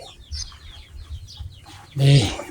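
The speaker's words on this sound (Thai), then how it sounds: "ไก่ขาว" White chicken, a breeding rooster, in a small country-style coop, making a short loud cluck near the end after quieter low fowl murmurs and faint background noise.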